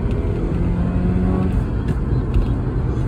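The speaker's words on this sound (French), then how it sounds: "on va accélérer un peu pour que vous puissiez voir comment elle accélère." A naturally aspirated Saab 900 automatic car accelerating, a steady loud engine drone with road and wind roar heard from inside the cabin throughout.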